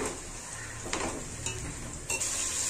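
Two handfuls of mint leaves are stirred and sautéed in a hot pan for chicken biryani, crackling with a soft sizzle under a few stirring scrapes, quiet and close with no talking.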